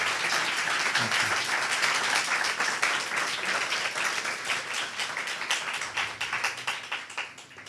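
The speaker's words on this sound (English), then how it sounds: "Let's give a big round of applause" Audience applause at a Srimad Bhagavatam class during a pilgrimage in Puri, dense steady clapping from a sizeable group, fairly close, thinning slightly toward the end with no talk over it.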